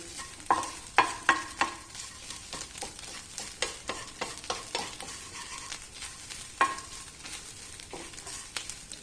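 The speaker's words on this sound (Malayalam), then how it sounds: "നമുക്കിത് പുളി ഇട്ട ശേഷം കുറച്ചിങ്ങനെ ഒന്ന് ഇളക്കണം ഒന്ന് ചൂടായിക്കോട്ടെ" A spoon stirs chammanthi chutney with tamarind in a hot pan, giving repeated scraping strokes over a steady low sizzle of frying, close and moderately loud with no talk.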